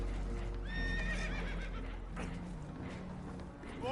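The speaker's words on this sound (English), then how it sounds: "Horses are spooked" Spooked horses in Red Dead Redemption 2 let out a high, quavering whinny that rises and falls. Hoof clops and low rumbling ambience sit underneath, and a second neigh begins right at the end.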